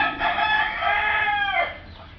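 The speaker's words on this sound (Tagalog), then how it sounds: "ang ingay mo manok, ililitson kita mamaya." A rooster crows nearby with one long, loud cock-a-doodle-doo that rises and then trails off, heard on its own over faint background during an electronics repair session on a JVC component system.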